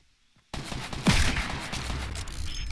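Rapid bursts of gunfire in a Fortnite Battle Royale match, a dense continuous fusillade starting abruptly after a short quiet moment and staying loud to the end, with no talk.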